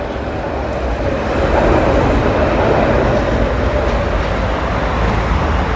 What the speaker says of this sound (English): there's another tram arriving